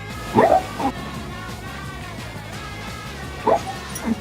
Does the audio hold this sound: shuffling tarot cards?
no